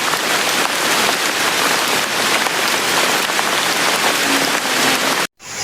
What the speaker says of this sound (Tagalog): ang lakas ng ulan at madilim ang panahon